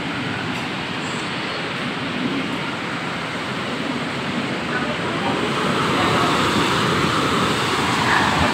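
Strong Typhoon Odette winds roar steadily in Silago, a dense unbroken rush that swells slightly louder toward the end, with no pauses across the whole stretch.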